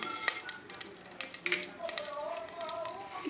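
Mustard seeds frying in hot oil for a gongura dal tempering, quick crackling pops and spits with scattered sharp bursts, some clinks of a spoon against the pan, fairly close.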